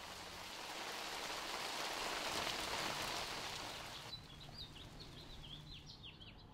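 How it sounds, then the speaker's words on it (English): Steady rain hisses down in California for several seconds, then eases to a softer patter while birds chirp nearby. "Who wouldn't want to sit out in the rain?"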